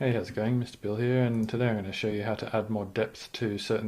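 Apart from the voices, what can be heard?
No everyday noises stand out.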